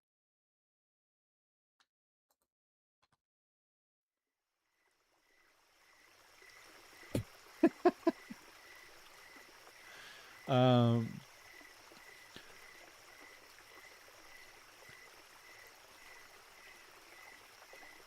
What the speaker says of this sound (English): every time I hear crickets and water running